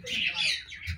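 Small, colourful green caged birds at a zoo park give a brief burst of high, close chirps and tweets.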